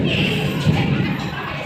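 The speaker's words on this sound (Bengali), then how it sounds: "চরম মেঘ ডাকছে" Thunder rolls during an afternoon rainstorm in Bardhaman, a continuous deep rumble blended with the broad hiss of falling rain.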